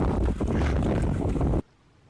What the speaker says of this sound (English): windy again.